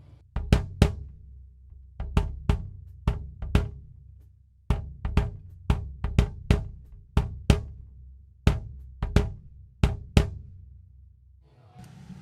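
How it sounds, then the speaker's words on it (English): Sharp, punchy kick drum hits recorded by a microphone inside the drum, about twenty strikes in an irregular rhythm, each with a clear beater click on the head and short boomy tail. "I'm getting all the beater hit on the head and everything."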